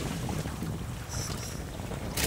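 Strong wind buffets the microphone in a steady, heavy roar on a small boat at sea during a storm, with no talk.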